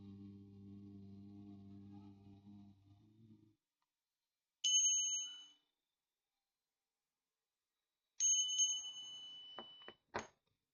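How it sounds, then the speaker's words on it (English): In root chakra meditation a small bell rings clear and bright, first as one struck tone that fades, then again with a ring and quick touches near the end, after a low sustained chanting voice. "Then I did lam 10 times, then I rang the bell."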